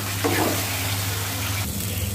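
Fish masala frying in oil while being stirred, a continuous close sizzle with scraping stirring strokes and a low steady hum underneath.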